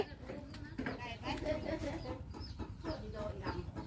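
Chickens cluck and squawk close by over a steady rustling background, with bursts of short calls repeating throughout.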